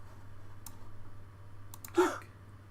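A few quiet mouse clicks in the Transport Fever game tutorial, sparse sharp ticks over a low hum, followed by a brief soft breathy sound.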